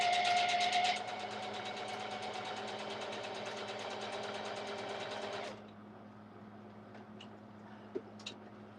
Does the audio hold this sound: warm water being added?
no